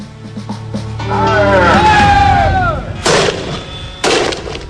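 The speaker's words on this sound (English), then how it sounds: "When they explode, 24 tiny rubber balls fire out to batter and bruise opponents into submission." Stinger rubber-ball grenades detonate in two sharp, booming blasts about a second apart, following a stretch of rising and falling whistling tones and a dense rumbling build-up.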